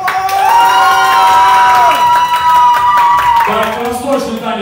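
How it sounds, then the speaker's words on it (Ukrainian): Wedding guests cheer and applaud a group of dancers at a wedding celebration, a loud, sustained wave of crowd shouting and whooping with scattered clapping lasting several seconds. "Оцените их аплодисментами"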